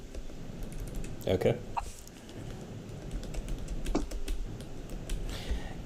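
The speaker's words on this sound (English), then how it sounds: "Yay, typing sounds." Close computer keyboard typing comes in quick bursts of clicks, with a short spoken interjection partway through.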